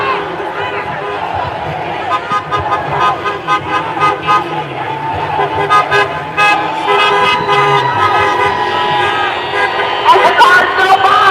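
Cars passing a street protest in Orlando give short toots and honks again and again, mixed with traffic noise and crowd voices nearby.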